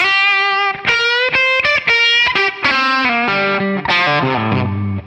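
Electric guitar through a warm, overdriven Two-Rock TS-1 100-watt tube amp, a melodic run of picked notes that sustain and bloom just after the pick attack, loud and close.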